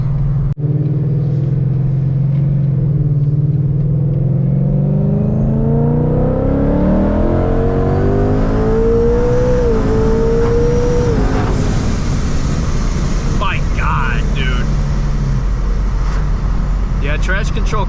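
A 700-horsepower supercharged Mustang engine revs and climbs through the gears with a rising, rumbling whine as the wheels slip on a cold road, loud and close; a voice talks over it.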